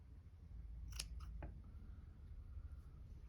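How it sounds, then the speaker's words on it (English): Scissors snip through the yarn hair of a small crocheted doll, giving a few quick, faint crisp cuts close by in a quiet room. "You can come through with scissors, like on this side, some of them are a little long. I'm just gonna cut those."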